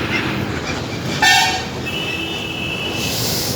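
A train running past with a continuous rumble of wagons, broken by a loud horn toot of about half a second, then a fainter tonal hoot as the train continues.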